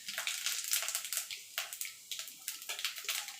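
Bay leaf and whole cumin seeds sizzle in hot oil, a close bright crackling hiss that comes in uneven bursts and pops.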